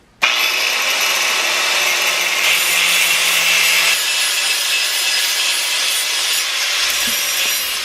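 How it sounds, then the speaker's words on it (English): A power tool cuts circles from material for a homemade belt grinder, starting abruptly with a loud steady whining grind that runs unbroken for several seconds, close up with no voices. "I'm going to try to cut these circles"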